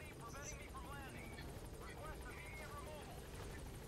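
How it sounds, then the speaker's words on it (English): A helicopter's rotor drone carries steadily beneath game sound effects and scattered chirps in Metal Gear Solid V: The Phantom Pain, as the chopper comes in for a pickup. "you're just going to wait for the chopper to pick you up"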